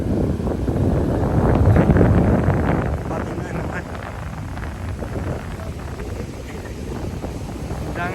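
Sea wind at Baga Beach in Goa buffets the microphone in a loud, rough rush that swells early then settles into steady blustering, with someone talking throughout.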